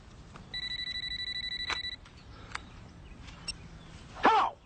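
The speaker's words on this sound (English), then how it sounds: "Phone." A telephone rings with a regular electronic double-tone burst for about a second and a half, fairly close and clear, followed by a quiet room with a few small knocks and a brief throat-clearing near the end.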